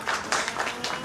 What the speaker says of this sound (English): You don't know what they're clapping for.